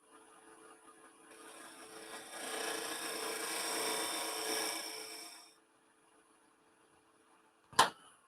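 A steady rasping cut of a woodturning tool shaping a cove in face-grain wood spinning on a lathe, building for several seconds then stopping, followed by a single sharp knock.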